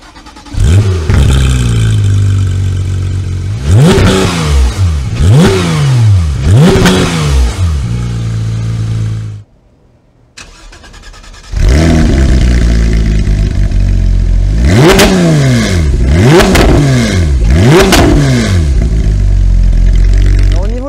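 A Porsche 911 GT3 with an aftermarket exhaust line fires up and is revved hard several times, loud close blips rising and falling, a brief near-silent break, then more sharp revs over a rumbling idle.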